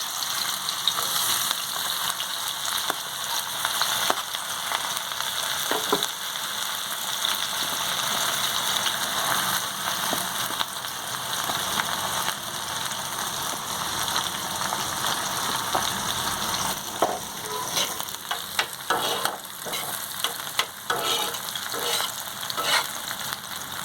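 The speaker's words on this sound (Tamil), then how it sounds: "நல்லா வெங்காயம் வதங்கட்டும்." Finely chopped large onions fry and sizzle steadily in a pan for a karimeen pollichathu fish dish, with occasional scraping stirs over a loud, continuous hiss and no voices.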